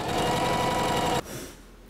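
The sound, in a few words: Singer Heavy Duty sewing machine running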